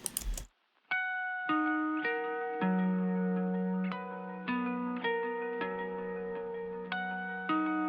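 Electric guitar layer from a Native Instruments Electric Vintage Spaceship preset, playing sustained chiming chords with a spacey, effected shimmer, changing roughly every second, clear and alone after a brief noisy burst at the start.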